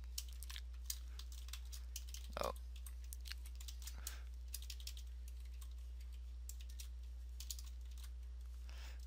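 Scattered clicks from a computer keyboard as code is typed in Notepad++, quiet and close, coming in short bursts with gaps and an occasional louder key tap.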